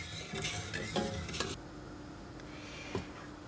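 Milk, sugar and cinnamon being stirred in a pot for Andalusian sweet gachas (poleá): a spoon scrapes and swirls in brief clustered strokes with soft clinks against the pot, close by, then a quiet simmering hiss with one more scrape.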